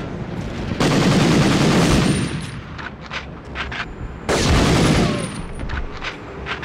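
Bursts of automatic gunfire in the PlayStation 1 game Medal of Honor, two long loud volleys separated by quieter single shots and game ambience.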